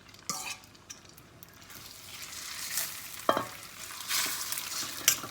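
Thin floured beef slices fry in hot oil in a pan, a soft sizzle that builds gradually, broken by a few clinks and scrapes of utensils.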